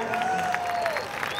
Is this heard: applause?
yes